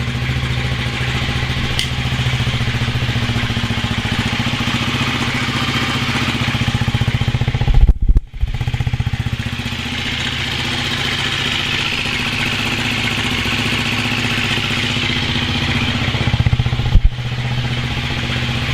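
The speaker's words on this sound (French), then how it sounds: "Le ralenti est peut-être pas top, mais franchement, il n'y a pas de bruit moteur, rien, regarde." A motorbike engine idles steadily after starting, a loud close mechanical putter with light clatter that runs throughout, broken by two brief dips and bumps where the rhythm stumbles, with no talking.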